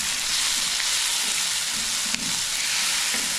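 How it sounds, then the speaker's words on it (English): Tomatoes frying in a hot pan for karela, a bitter gourd dish: a steady, loud, close sizzle throughout with a faint stirring scrape. "Now I'll put the tomato for the Karela in the hot pan."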